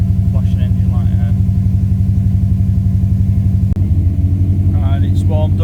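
A Subaru Impreza engine idles after a misfire repair with an idle air control valve fault, giving a steady, loud low rumble with an even pulse throughout, a brief click partway, and someone talking over it.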